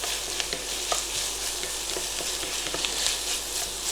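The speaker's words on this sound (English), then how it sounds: "I'm just trying to move the onion as much as I can so it just gets soft rather than colored" Onion softening in a hot pan for green lobio, with a steady sizzle of frying and frequent scraping, stirring strokes close by, and no voices.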